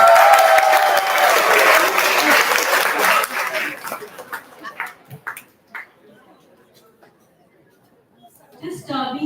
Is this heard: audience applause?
yes